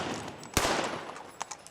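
Gunfire during a Jesse James raid reenactment at Defeat of Jesse James Days: one sharp, loud shot rings out over steady crowd noise, followed by two fainter, more distant pops.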